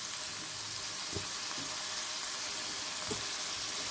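Chicken and vegetables stir-frying in a pan on medium-high heat give off a steady, soft sizzle, with a few faint stirring knocks now and then.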